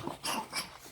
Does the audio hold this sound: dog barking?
yes